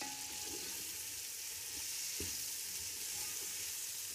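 Potatoes sizzle steadily in a hot pan with spices while cooking a spinach and potato dish, a faint, continuous frying hiss with a few soft stirring knocks and no talking.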